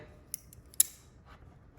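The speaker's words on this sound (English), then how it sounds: "I'm gonna get rid of this side of the breadboard completely so that I'm not fighting anything. So I'm just gonna cut that away." A plastic electronics breadboard being cut apart, with two sharp, close snips about half a second apart over a quiet background.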